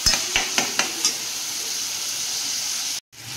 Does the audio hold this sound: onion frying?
yes